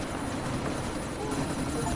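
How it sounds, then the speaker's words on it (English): A helicopter in the video game Deus Ex Mankind Divided, a continuous loud rotor drone with a steady throbbing texture and faint game ambience, no talk. "Geldi helikopter, geldi."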